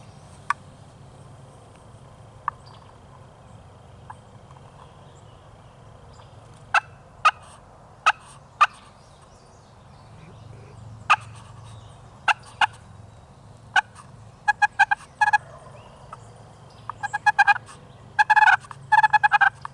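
Faint, distant wild turkey gobbles during a spring turkey hunt sound in short bursts over a quiet outdoor background, growing more frequent toward the end.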